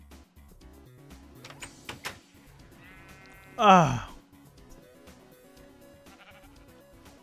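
A Minecraft sheep gives one loud, close bleat partway through, with quieter game sounds around it and a short spoken exclamation.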